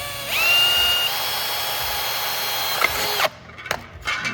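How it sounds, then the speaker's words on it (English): Close, loud power drill spins up and bores into a metal fuel tank skid plate for about three seconds, then stops, followed by faint clattering. "before I drill the 7/16 hole for the Zeus fastener"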